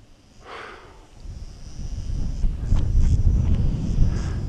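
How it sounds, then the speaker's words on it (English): Low, blustery wind rumbles against the microphone on a clifftop at Rdum Qammieh, Malta, growing stronger and gustier over a few seconds. "it's picking up a bit, the wind now."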